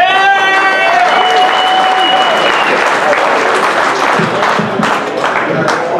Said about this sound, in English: Katie and Shane a big round of applause.